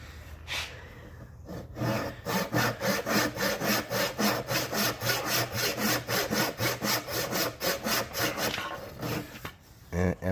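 A wooden stick is sawn by hand with a quick, even back-and-forth rhythm of rasping strokes, close and loud, about two dozen strokes before it stops.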